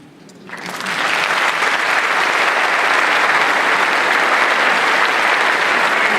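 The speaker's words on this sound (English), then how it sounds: "Can we give her one more round of applause?" An inauguration audience breaks into applause, the clapping swelling within the first second from near quiet into a loud, sustained ovation that holds steady to the end.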